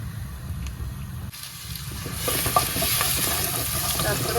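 Black pepper and cardamom tempering in hot oil for Punjabi chicken, a quiet crackle that jumps to a louder, steady sizzle halfway through, with faint stirring sounds.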